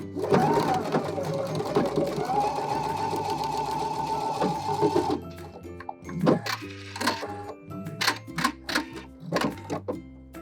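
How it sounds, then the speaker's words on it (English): A sewing machine runs a straight-stitch seam with backstitching on ribbon trim, giving a close, steady rapid whir for several seconds, then short stop-start bursts and clicks. "now we're gonna sew right sides together and create a little seam here"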